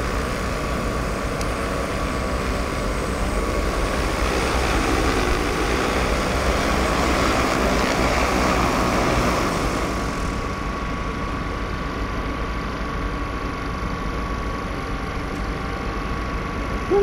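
A Kubota T30K agricultural drone lands at a farm machinery show, its loud, steady rotor drone filling the air before the upper whine cuts out near the end as the motors wind down.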